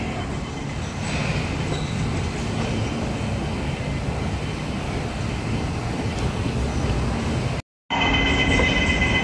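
Hong Kong airport transfer train rolling along, a steady loud rumble of wheels and carriage noise throughout, broken by one brief cut near the end.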